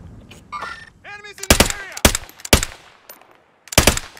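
Heavy sniper shots boom out in Call of Duty Warzone, several loud single cracks spaced about half a second apart with a later one after a pause, mixed with chirpy game sound effects and brief voices.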